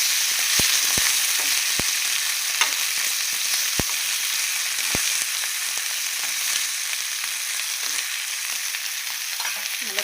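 Masala-marinated fish fries in a pan with a continuous dense sizzle and spatter, a few sharp utensil taps early on, close by and without any talk.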